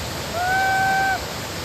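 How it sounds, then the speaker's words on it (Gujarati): A waterfall pours into flowing water, giving a steady, even rushing roar throughout, with a brief high whistle-like tone riding above it in the middle. "ધોધનો નજારો અહીંયા સરસ મજાનો છે ને સરસ મજાનો અહીંથી પાણી વહેતું જાય છે"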